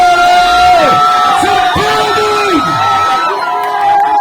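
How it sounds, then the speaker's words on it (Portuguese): A live crowd at a concert in Chimoio whoops, yells and cheers loudly for the music producer, voices rising and falling in overlapping shouts, close and energetic. "Uma salva de palmas para o produtor!"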